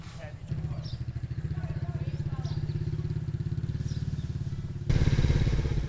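A motorcycle rides down a rural road in Myanmar, its engine giving a steady rapid pulsing drone that runs close throughout and grows louder near the end, with a narrator's voice speaking over it.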